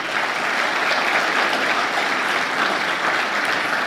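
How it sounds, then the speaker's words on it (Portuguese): A church congregation applauds during a communion service, a thick, sustained round of clapping from many people at fairly loud level, steady throughout with no speech. "Vamos aplaudir Jesus."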